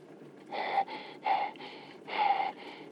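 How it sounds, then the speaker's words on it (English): Heavy, raspy breaths come close to the mic, four or five loud exhales and inhales in a row with quiet gaps between them. "our first heavy breather of the night"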